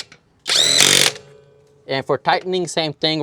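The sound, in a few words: cordless impact wrench running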